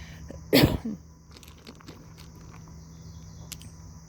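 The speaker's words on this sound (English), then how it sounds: "I need to clear my throat again." One short, forceful throat clearing near the start, followed by quiet room hiss and a few faint clicks.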